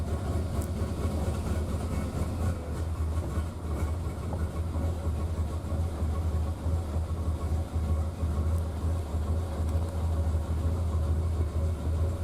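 A cold Triumph Spitfire engine runs on choke with a low, steady rumble, idling fast and fairly close, its deep throb holding constant with no talking.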